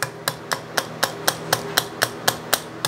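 The back of a rubber-handled screwdriver taps a Sheldon lathe part in an even rhythm, about eleven sharp, close knocks in under three seconds with nothing else heard.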